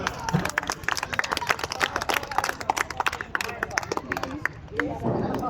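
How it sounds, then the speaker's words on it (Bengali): A roomful of people claps rapidly for a prize winner at a science club prize distribution, dense, lively applause with voices mixed in. "হাততালি দাও।"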